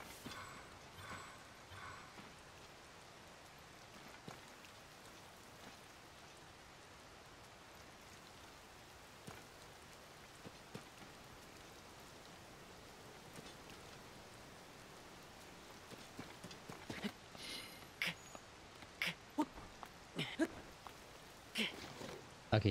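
Steady rain falls in The Legend of Zelda: Tears of the Kingdom, a soft continuous patter under occasional faint speech, with sharper clicks and taps from game actions growing more frequent toward the end.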